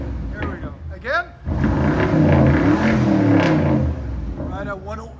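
A 2015 BMW X6 M with a 4.4-liter twin-turbo V8 and muffler delete revs hard in one loud, close surge that holds for about two seconds before falling back, with speech just before and after.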